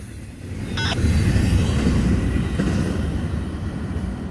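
A freight train hauled by an S229 locomotive rolls past with a boxcar, a steady heavy rumble of wheels on rail with a short high squeal near the start.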